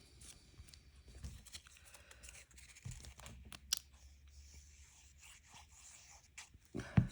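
Paper being cut for card making: scattered soft snips and rustling strokes, close and quiet, with a sharper scrape near the end.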